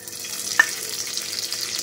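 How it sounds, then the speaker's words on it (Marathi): A hot pan gives a steady, soft sizzle with a brief sharp crackle near the start, as ghee hits the metal of a kadhai; no voices. "आपली कढई तापलेली आहे, आता आपण त्याच्यामध्ये तूप टाकून घेऊ"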